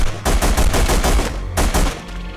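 Machine gun fire in The Punisher video game: loud, dense automatic bursts in two volleys separated by a short pause, with no voices.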